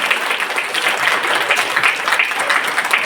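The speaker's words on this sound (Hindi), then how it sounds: "ताली बजाइए जोर से." Loud applause rises from a church farewell gathering for a priest, a thick, energetic burst of many hands clapping close by at an even, continuous pace for the whole few seconds.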